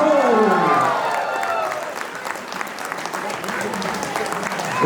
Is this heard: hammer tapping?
no